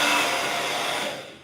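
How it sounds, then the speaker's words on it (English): A cheap, very loud hair dryer runs steadily with a harsh, broadband whoosh, close and alone, tapering slightly at the end. "It's like the loudest dryer ever, and it's like a cheapy dryer, so she has no shame being loud."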